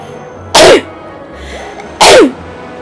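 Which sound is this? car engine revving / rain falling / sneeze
sneeze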